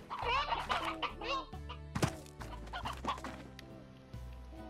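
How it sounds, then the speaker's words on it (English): Stony hens in the video game Slime Rancher cluck and squawk in a busy, overlapping chorus over a steady low game soundtrack, with one sharp thunk partway through. "we're gonna keep all the stony hens here in close proximity to the tabbies"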